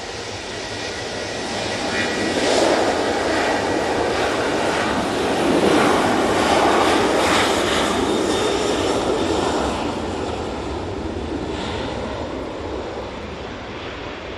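Boeing 737-800 airliner at Manchester Airport, a loud broadband jet roar that swells over several seconds, peaks, then eases back while staying present to the end.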